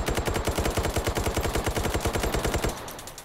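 Full-auto gunfire from a box-magazine weapon in the VR shooter Hot Dogs, Horseshoes & Hand Grenades, one loud, close, rapid continuous burst lasting under three seconds before stopping abruptly.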